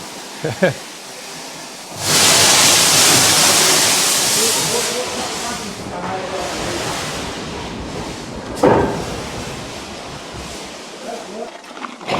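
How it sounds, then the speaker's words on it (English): Loud, forceful hiss of steam from a running steam train at the world's oldest working railway bursts out and rushes for several seconds, then eases, with a sharp second puff later and voices nearby. "Okay, so the steam train's running."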